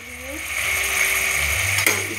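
A spice paste of garlic-ginger paste, ground red chilli and salt sizzles low and steady in a pan while it is slowly cooked, with a faint clink and scrape of a spoon near the end and no one talking.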